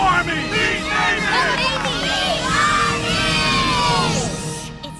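Crowd in Fort Atkinson cheering and shouting for Army and Navy runners, a steady wall of whoops, yells and children's voices with calls rising above it, loud and close for the whole stretch before easing at the end.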